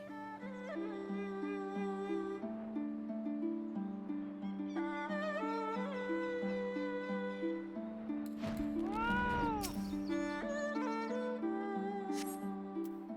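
A cat meows several times in Final Fantasy XIV, with drawn-out, rising and falling calls over steady, tonal game music that keeps playing throughout.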